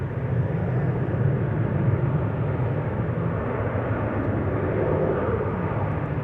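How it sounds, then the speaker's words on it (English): A KLM Boeing 737 bound for Milan takes off at Amsterdam Schiphol, its engines giving a loud, steady broadband roar that holds without a break. "KLM 737 to Milan, taking off right now."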